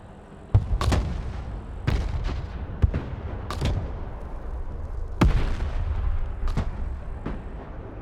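Mortar fire in the real-time strategy video game Broken Arrow: a series of heavy booming launches and impacts, irregularly spaced, loud with rumbling tails over constant low battlefield noise, no speech.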